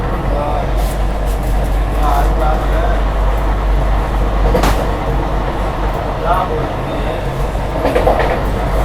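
From inside a Vande Bharat Express overtaking a local train, a loud steady rail rumble runs throughout with faint clatter and brief whooshes, while someone talks over it.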